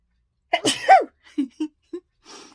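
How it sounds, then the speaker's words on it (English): A single sharp sneeze bursts out close by, followed by a few soft breaths and small mouth sounds in an otherwise quiet room. "I'm going to sneeze"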